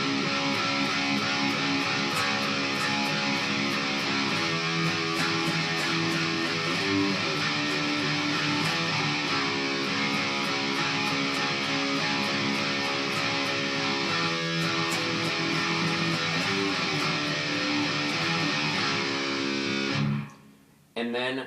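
Distorted guitar plays an intro riff slowly on the low sixth string, a steady, dense and loud passage running for about twenty seconds before stopping abruptly.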